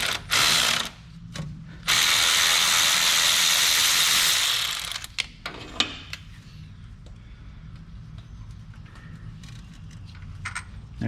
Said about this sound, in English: now we are free to remove the bottom bolt